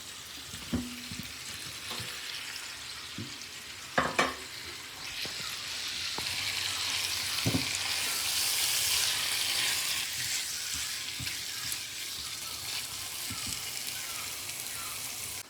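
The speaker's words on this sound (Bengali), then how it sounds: "এখন দিয়ে দিব মাছ।" Pabda fish sizzling in fried spice masala, a steady, close frying hiss with occasional stirring knocks and spatula scrapes against the pan.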